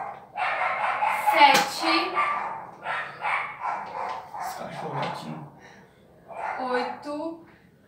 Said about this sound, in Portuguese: Desculpa os cachorros latindo aí.